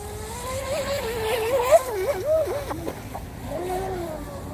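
19-inch RC tri hull boat with a 4000kv motor running on water, a high whining buzz that rises and falls in pitch as it speeds and turns, heard at moderate distance with a voice talking faintly over it.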